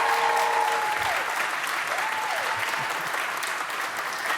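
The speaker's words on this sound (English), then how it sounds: "Can I just hear a round of applause for them, please?" An audience at a TwitchCon Paris panel gives the panelists a sustained round of applause, dense and steady clapping that fills the hall, with a few voices faintly audible underneath.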